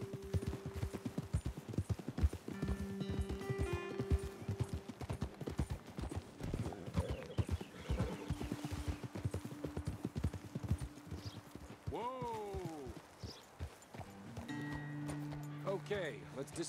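Horse hooves clop steadily in Red Dead Redemption 2 as several riders travel together, a continuous brisk rhythm of close hoofbeats running throughout under game music tones and some speech.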